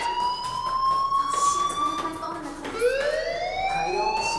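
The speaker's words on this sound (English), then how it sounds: "Hey, do you hear that fire alarm?" A school fire alarm sounds in the video game Life is Strange, a steady electronic tone that holds, breaks briefly and resumes, loud and close over a faint background murmur.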